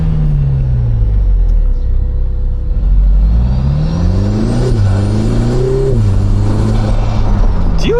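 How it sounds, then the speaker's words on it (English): A supercharged 3.5-litre V6 Lotus Emira with a manual gearbox rumbles loudly up close, its engine note rising and falling through shifts as the blow-off valve flutters, with no talk. "The fluttering of the blow-off valve."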